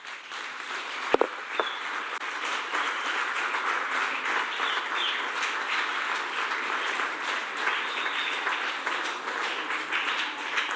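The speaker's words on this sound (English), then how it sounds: "We can clap for us." An audience at a Youth Day gathering claps together in steady, even applause that runs for about ten seconds, with a couple of sharp knocks near the start.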